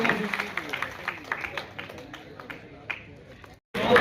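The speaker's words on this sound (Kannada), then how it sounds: "ಬರಲಿ ನಿಮ್ಮ ಪ್ರೀತಿಯ ಚಪ್ಪಾಳೆ" Audience applause at a Private Employees Association event, a dense patter of claps close by that thins and fades out before a brief renewed burst.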